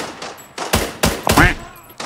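Gunfire in the Arena Breakout shooter, three or four loud, close bursts of shots in quick succession with short gaps, over a quiet background.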